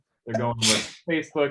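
A single sharp sneeze breaks into a podcast conversation between speakers, landing loud and close in the middle of their talk.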